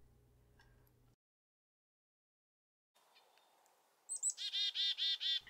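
Chickadee calls ring out in a quick run of bright, repeated notes near the end, loud and close, following a quiet stretch with faint low background sound.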